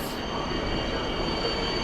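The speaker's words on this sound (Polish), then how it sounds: "do stacji Przemyśl Główny podstawia się Intercity Witos" The Intercity Witos train pulls into Warszawa Wschodnia station with a steady, loud rolling rumble and a thin, sustained high wheel squeal.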